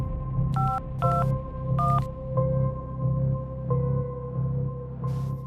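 A telephone keypad being dialed: several distinct DTMF tone beeps in quick sequence, fairly clear and alone over a faint low hum.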